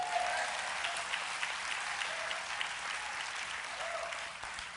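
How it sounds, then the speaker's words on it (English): A church audience claps steadily at a live-streamed service, dense continuous clapping at moderate distance with no clear beat, filling the whole stretch. "Clap your hands."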